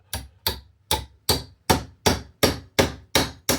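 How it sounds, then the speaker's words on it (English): Nails are hammered into drywall to mount a no-stud TV hanger, with nine sharp, evenly spaced hammer blows ringing close and loud, one about every 0.4 seconds. "because we've got 20 something nails going in here"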